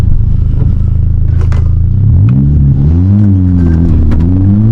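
A VW Golf GTI launching hard, its loud engine note climbing steeply through the revs, then shifting and rising again in strong pulls, heard from close inside the car.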